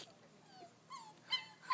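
An Australian cattle dog puppy whimpers softly, giving faint, thin whines that rise into a few brief high squeaks toward the end, all set against a very quiet background.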